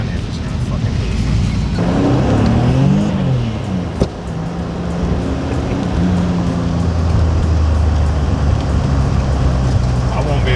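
A 700-horsepower Infiniti G35 idling loudly up close, with a burst of revving that rises and falls, while people chat over the rumbling engine.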